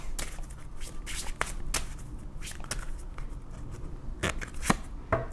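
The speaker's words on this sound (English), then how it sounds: "Let me shuffle this deck." A tarot card deck is shuffled by hand in a quick series of soft slaps and flicks, close and fairly quiet, with irregular sharper snaps.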